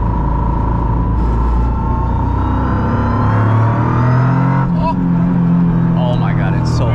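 A Cusco Japan Rally Championship Toyota GR Yaris race car accelerates on a street, its engine droning loud and close as the revs climb and shift, with people talking over the noise inside the cabin.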